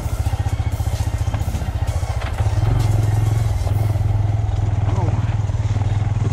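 A brand new Honda Grom motorcycle putters off-road over dirt, its engine thumping steadily and rising to a heavier drone partway through, with clattering over rough ground and a rider talking.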